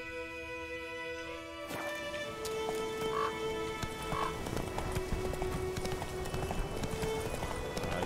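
Galloping hooves of the horse Roach in The Witcher 3, a fast, steady clip-clop rhythm running for several seconds over game music and ambience, fairly close.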